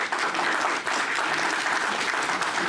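Sustained applause from a wrestling crowd at a CHIKARA event, a dense, steady wash of clapping filling the whole stretch with no voices rising above it.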